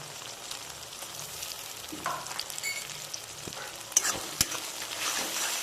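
Ginger and garlic pastes frying with melted tomato in a pan for a tangra fish curry with potato and cauliflower, a soft steady sizzle broken by a few sharp scraping stirs, fairly quiet and close with no talking.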